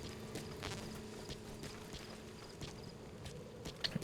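Horse hooves clip-clop at a walking pace in Metal Gear Solid V: The Phantom Pain, a rhythmic series of soft thuds heard at moderate level over a constant low ambient hum and faint game sounds.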